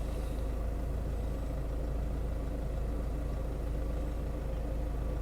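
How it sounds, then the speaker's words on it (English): A 2023 Mahindra Scorpio's engine runs steadily with a low, even hum and a constant rumble throughout, quite quiet and smooth, with no voices. "relatively smooth and refined engine and noise"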